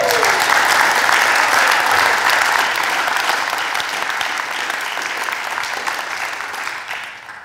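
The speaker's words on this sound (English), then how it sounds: "Come on, let's give Jesus a clap, eh?" Loud, full congregation applause during a church sermon, sustained and even for several seconds before tapering slightly at the end.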